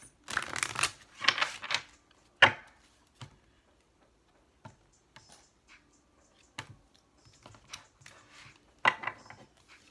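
Tarot cards riffled and shuffled in a few soft bursts, followed by scattered light taps and clicks.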